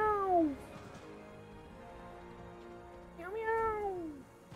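A cat mount in the World of Warcraft video game gives two clear, loud meows, one at the start and one near the end, each with a gliding, falling pitch over a quiet background.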